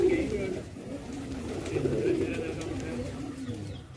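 Pigeons coo in soft, repeated rolling calls close by, with faint background noise and someone speaking quietly between the calls.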